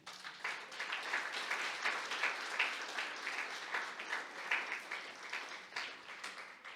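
Church congregation applauds during a sermon, a fairly soft, sustained wash of many hands clapping with slight swells, heard at some distance for several seconds.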